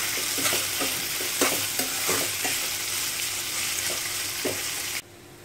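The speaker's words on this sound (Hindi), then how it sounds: "अब हम इसमें डालेंगे प्याज। अच्छे से भून लेते हैं।" Onions frying in a pan for black chickpea ghugni, a loud continuous sizzle with repeated spoon scrapes while stirring, close up, cutting off abruptly near the end, with no talk.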